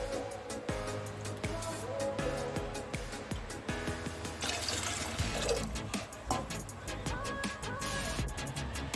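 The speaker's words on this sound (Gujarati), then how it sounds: "હવે આપણે આ દાળમાં બે કપ જેટલું પાણી એડ કરીશું" Water is poured and splashes into a pot of urad dal, with a few clinks and clatters of kitchenware around it.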